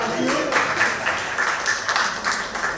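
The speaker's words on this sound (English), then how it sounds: "let's continue to give them a round of applause" Church congregation applauding during a Methodist service, a steady wash of clapping sustained throughout, with voices and some talk mixed in beneath it.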